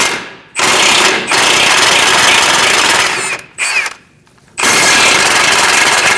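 A power tool with a 17mm socket spins nuts off the front steering knuckle of a 2002-2006 Toyota Camry, in loud, close bursts of several seconds broken by short pauses and one longer gap.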